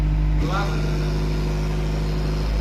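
A car's exhaust rumbles through an Akrapovič-style muffler with its flap closed, giving a muted, steady low drone close by, with a brief rise near the start and a voice partly over it.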